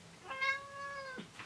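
A single clear meow from a pet cat indoors, fairly quiet and close, rising then holding a steady tone for about a second.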